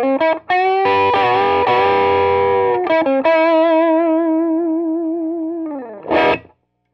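Electric guitar with overdrive played through a '62 Princeton reissue amp: a few strummed chords, then a long sustained ringing chord that fades before a brief final strum, loud and solo.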